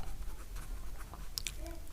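Brief, soft scratching of a pen on paper while a chemistry formula is written, faint and close over a steady background hum, with no talking.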